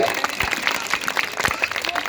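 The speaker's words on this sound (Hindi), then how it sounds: "बजाओ ताली, अच्छी लगे" An audience at a school event honouring parents breaks into applause, a dense patter of many hands clapping at once, lively and sustained throughout.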